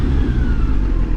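A 2020 Kawasaki Z900 motorcycle accelerating with a quick shifter, heard as a loud, steady mid-range engine drone with a faintly rising tone over the short stretch, no talking.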